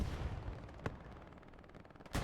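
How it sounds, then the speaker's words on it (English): Tank fire rumbles in a wartime video game battle: a couple of distant, low booming shots over a dull rumble of background combat. "I hear some tank fire going on"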